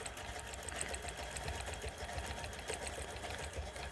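A sewing machine stitches in the ditch along a quilt seam while following a gentle arch curve. Its steady, fast mechanical whir continues evenly and close throughout, with no talking.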